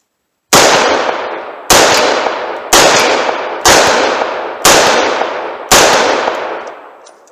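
Six loud shots from a .357 Magnum revolver firing Blazer ammunition, each a sharp crack with a long echoing decay, spaced roughly a second apart.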